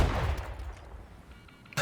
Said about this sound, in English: So I will now shoot at the front, distance 15 meters and fire.